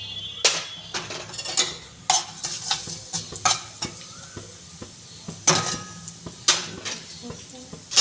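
Cumin and mustard seeds tempering with asafoetida in hot white oil in a wok, giving a soft crackle and sizzle broken by sharp clinks and scrapes of a spoon against metal.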